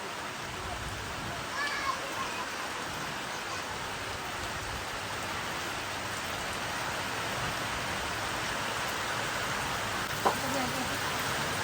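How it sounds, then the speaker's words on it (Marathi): Steady rain falls in the Konkan with a broad, even hiss carrying strong wind, joined by a couple of brief, faint knocks. "जोरदार आता वारा सुटला आहे आणि पावसाला सुरुवात झालेली आहे"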